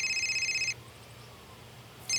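A phone rings with an incoming call: a bright electronic ringtone trills for under a second, falls silent, then starts again at the end, fairly close and with no talking.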